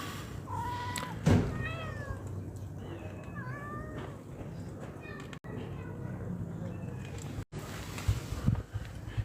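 A cat meows several times in quick succession, its rising and falling calls clear against a quiet outdoor background with soft rustling.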